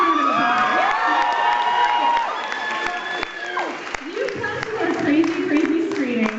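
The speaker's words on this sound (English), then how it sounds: "Give yourself a round of applause." Concert crowd at a Devil's Carnival Road Tour show in Vancouver, BC, applauding and cheering steadily, with clapping, whoops and shouting voices blending into a loud continuous roar throughout.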